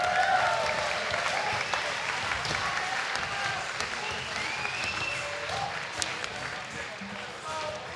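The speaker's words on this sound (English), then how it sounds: "Make a round of applause for these three awesome dudes" A crowd at a pro skateboarding finals applauds three skaters, steady spread-out clapping and cheering at moderate distance, with a voice talking over it through a PA.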